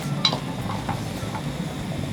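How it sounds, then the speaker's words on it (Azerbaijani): Onions hiss softly in a pan over a constant low sizzle, with a faint utensil clink near the start. "İndi isə soğanlarımızı qovururuq."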